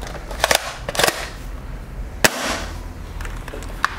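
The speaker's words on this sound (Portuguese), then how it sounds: "Eu vou dar uma pampeada agora para vocês verem como é que é o barulho do disparo dela." A Velites S-V Secutor airsoft shotgun is racked and fired, giving sharp mechanical clacks from the pump followed by a crisp snap from the shot, close and loud over a quiet room.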